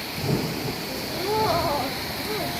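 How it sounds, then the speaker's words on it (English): Heavy hail pelts down with rain during a thunderstorm in Sydney, Australia, a dense, steady patter close by with a brief low rumble and a few faint tonal squeaks. "Dang, this is some big hail"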